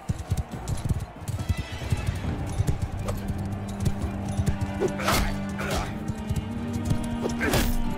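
Horse hooves clip-clop in Mount & Blade 2: Bannerlord combat, with rhythmic hoofbeats under battle noise, a sustained hum, and several sharp rising cries near the end, while someone talks over it.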